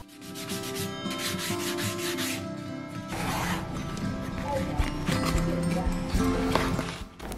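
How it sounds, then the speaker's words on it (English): Sandpaper rubbing along the leading and trailing edges of a foam RC plane wing, close and steady rasping strokes in quick repeated bursts throughout. "sand rounded smooth on the leading and trailing edge"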